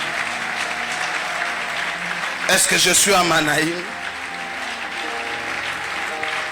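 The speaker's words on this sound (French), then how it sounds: "Manaïm, est-ce qu'on peut acclamer très fort le roi de rois?" A church congregation applauds and cheers, acclaiming Jesus at a Sunday service in Manaïm. Someone speaks over the crowd, then a loud burst of clapping and joyful shouts swells for about a second before easing back under his voice.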